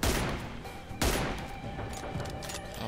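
Sniper rifle gunshots in the mobile battle royale game PUBG Mobile, two sharp loud cracks about a second apart followed by lighter distant shot echoes and game ambience, with no talk.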